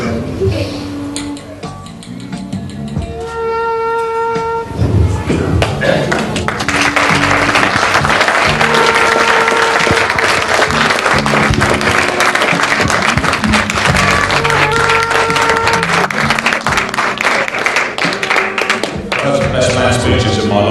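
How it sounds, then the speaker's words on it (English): Wedding guests applaud after the speeches and a toast to the bride and groom, loud sustained clapping filling the room, with music and chatter mixed in at the start and end. "Give him another round of applause, please."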